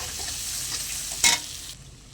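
Chili, cumin, coriander and Kashmiri red chili powders fry in a pan for a mixed-vegetable and bori dish, giving a steady close sizzle with one sharp stirring scrape partway through before it settles lower.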